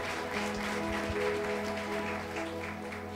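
A church congregation claps during a Sunday sermon, a soft, continuous patter of many hands over sustained instrumental tones that carry underneath.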